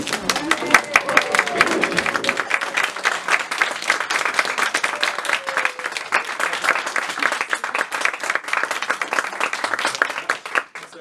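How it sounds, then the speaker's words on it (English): Theatre audience gives a warm round of applause to puppeteers coming onto the stage, dense sustained clapping from many hands that swells and then fades near the end, with brief voices at the start. "give them a really warm round of applause"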